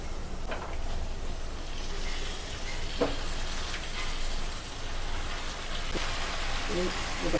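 Chukka kura greens from a terrace garden dropped into a hot pan with turmeric, giving a dense, even sizzle that holds steady throughout with faint clicks.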